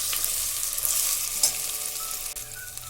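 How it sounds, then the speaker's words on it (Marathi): Whole spices being sautéed with fried onions for a red lentil masoor pulao, giving a steady close sizzle with light stirring scrapes and no talking. "त्यामध्ये खडा मसाला टाकून छान परतून घ्यायचा आहे"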